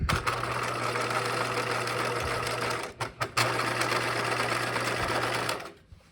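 Sewing machine top stitching a regular stitch through a single layer of backpack lining fabric, a loud, close, continuous motor hum with one brief stutter midway before it stops.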